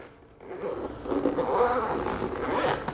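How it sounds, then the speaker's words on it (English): A zipper is pulled closed around a compact carry case made for a DJI Mavic 2 drone. It sounds as one continuous, fairly loud scraping run of close zipper teeth lasting a couple of seconds, with no talk. "Zipper that up."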